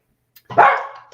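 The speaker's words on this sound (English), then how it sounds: "Oh, don't bark." A single short dog bark, close and fairly loud, bursts out after a brief quiet moment in an indoor setting.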